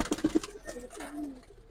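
Parrot-shaped pigeons coo softly nearby, three quick throaty notes followed by a longer, drawn-out coo, faint and alone.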